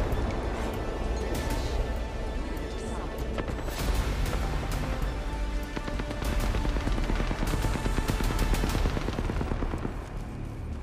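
Dense, continuous gunfire in the Apex Legends video game, with rapid automatic bursts and heavy impacts layered loudly under game effects and a voice.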